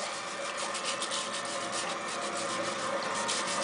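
A potato is scrubbed clean of dirt before cooking, a continuous close rasping rub with a steady brushing rhythm throughout, no talking.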